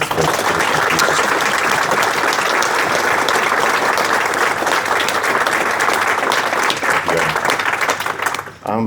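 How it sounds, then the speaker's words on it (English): Loud, sustained applause from an audience, a dense wash of clapping that continues evenly before tapering off abruptly at the end. "I just think we just give him a nice round of applause for Mark"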